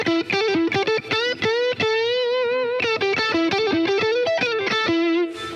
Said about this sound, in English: It's not really distorted. It's a little bit overdrive